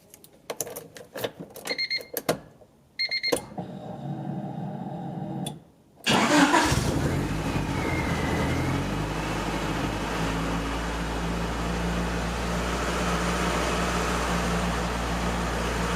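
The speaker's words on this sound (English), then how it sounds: "Turn the car on, let it warm up" A 1990 Honda Civic cranks with a few stuttering, clicking turns and a short pause, then fires up with a surge and settles into a steady, close, droning idle that runs on alone.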